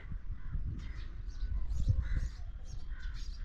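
Several crows caw in short bursts at moderate distance, spread across a breezy outdoor background with a low rumble of wind.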